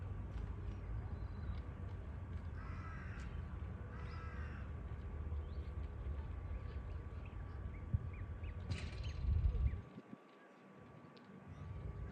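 A crow caws a few times from a distance over a steady outdoor hum, with a brief louder rustle near the end.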